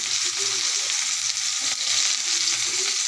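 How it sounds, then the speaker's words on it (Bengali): Chopped onions fry in hot oil with a loud, steady, crackling sizzle close at hand. Faint stirring noises sound now and then beneath the hiss. "তেলের মধ্যে আমি এখন কাটা পেঁয়াজগুলো দিয়ে দিব।"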